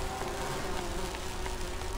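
A bee character buzzes in the Grim Fandango Remastered video game, a steady continuous drone that holds at an even level throughout with no talking.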